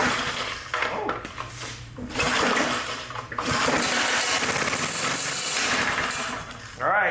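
An old small engine with an automatic choke sputters and runs roughly and loudly for several seconds, surging, dipping, then surging again before cutting out near the end.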